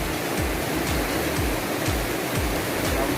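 A continuous close roar of cascading water from Khlong Maduea waterfall, dense and unbroken throughout, with nobody speaking.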